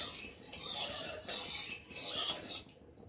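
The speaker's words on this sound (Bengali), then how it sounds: "চলো কড়াটা একটু নেড়ে দেবো।" A spoon stirs a hot karai in a home kitchen, making a steady run of repeated scraping sweeps across the metal pan that are fairly quiet and heard without speech.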